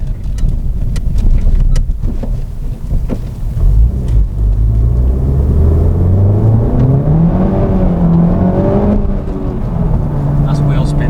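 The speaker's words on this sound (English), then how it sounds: "That's wheel spin." A Honda Civic Type R engine revs hard during wheel spin, a loud rising and falling drone with throttle sweeps over heavy wind rumble, close and continuous.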